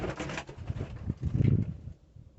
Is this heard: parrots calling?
yes